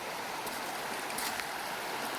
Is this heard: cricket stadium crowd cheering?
no